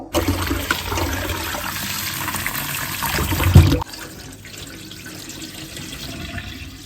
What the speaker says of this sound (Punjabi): ਚਨਾ ਦਾਲ ਨੂੰ ਆਪਾਂ ਨੇ ਸਾਫ਼ ਕਰ ਲੈਣਾ ਇੱਕ ਵਾਰੀ ਫੇਰ ਤੋਂ